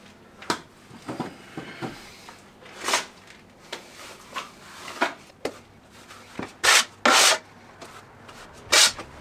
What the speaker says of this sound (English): So what I'll do is take a bit of render and add it in. Take some plaster, if Fill in the low spots.